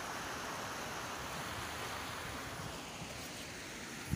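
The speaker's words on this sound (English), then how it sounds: "There is a running water here." Waterfall in a snowy public park in Villingen, Germany, rushing in a steady, soft, continuous wash of running water heard from a short distance, with one small knock near the end.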